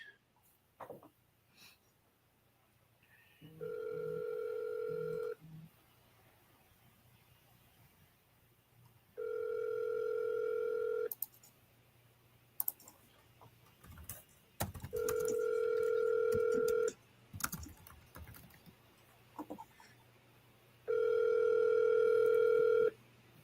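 An outgoing phone call gives four long ringback tones separated by quiet gaps, with faint handling noises and small clicks between the rings before the call goes to voicemail.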